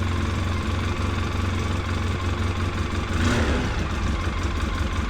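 The engine of a Polaris Sportsman 700 ATV runs at a steady rough idle just after starting from cold with the choke on, following two weeks of sitting. It gives a loud, close, continuous mid-pitched drone with a brief rise around the middle.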